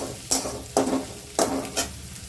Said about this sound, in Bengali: রসুনটাকে ভালো করে ভেজে নেবো লাল লাল করে।